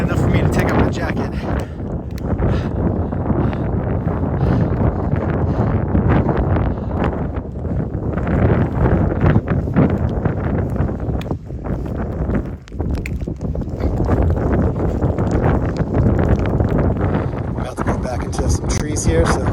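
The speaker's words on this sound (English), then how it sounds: "Here comes that wind." Strong wind on the trail to the summit of Mount Marcy, New York's highpoint, roaring steadily across the microphone as a loud continuous buffeting rush that barely lets up for the whole stretch.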